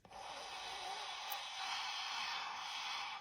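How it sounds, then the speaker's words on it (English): A steady, raspy ujjayi breath hisses through a constricted throat, soft and close, like a gentle snore sustained for several seconds. "So it's like a snore breath."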